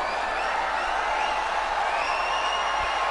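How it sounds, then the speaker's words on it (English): Tennis crowd in Chennai applauding and cheering Wawrinka at championship point of the singles final, a steady, dense wash of clapping and crowd noise filling the whole stretch at even loudness. "The crowd gives him a rousing ovation."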